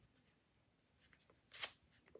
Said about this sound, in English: I am finally done tearing up my tissue paper